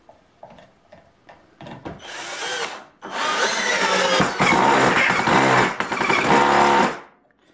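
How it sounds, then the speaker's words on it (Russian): Power drill driving long self-tapping screws into wood: a few short taps and bursts, then a loud sustained whir under strain that runs for several seconds before cutting off, with no talk. "Иногда нам требуется закрутить длинные саморезы в древесину."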